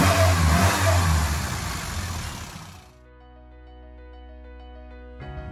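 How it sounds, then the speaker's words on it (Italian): Fiat Uno Turbo i.e. engine revving loud and close, then dropping to a steady idle with a hum, and a brief rise again at the end; no talking. "Motore."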